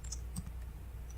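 Keys being typed on a computer keyboard while writing code, a few light quick clicks close by over a quiet background hum.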